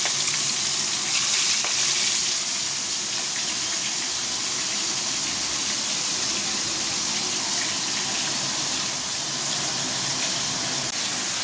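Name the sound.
eggplant frying and spice paste sautéing in pan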